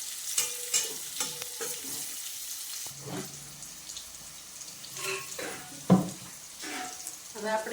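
Bitter gourd curry sizzles in oil in a pan while a spoon stirs it, giving irregular scraping and clattering strokes over a constant frying hiss, with some faint speech-like sounds in between.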